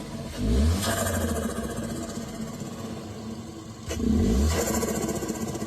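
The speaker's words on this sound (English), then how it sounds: "usually when you build boost, that boost has to go somewhere, so it leaves a blow off valve" A turbocharged car engine revs hard twice in close succession, each rise in pitch ending in a sharp hiss from the blow-off valve as the boost vents, with the idle steady in between.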